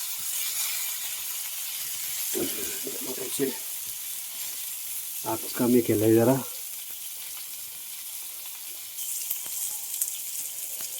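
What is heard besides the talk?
bangda mackerel fish frying on wood stove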